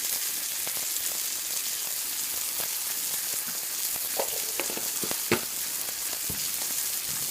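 A salt-and-peppered steak sizzles in a hot pan, a constant frying hiss with scattered pops and crackles, close and steady, with no talking.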